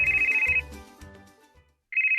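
A telephone rings with a loud electronic warble, one burst at the start and another at the end, with a quieter rumbling passage and brief silence between them.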